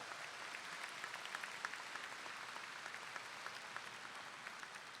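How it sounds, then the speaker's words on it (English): A high school graduation audience claps steadily at a distance, a faint, even patter of many hands with no voices over it. "Give them a round of applause"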